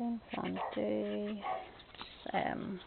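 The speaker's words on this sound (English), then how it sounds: "Someone coming to the door because that's my dog going nuts." A dog barks and whines at someone arriving at the door, its excited yelps rising and falling beneath nearby talk.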